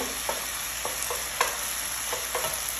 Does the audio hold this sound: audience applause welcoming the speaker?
no